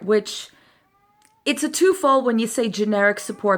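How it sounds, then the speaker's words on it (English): A cat meows loudly and repeatedly, with drawn-out harmonic cries mixed in with a person talking nearby, after a short quiet gap. "That's the cat."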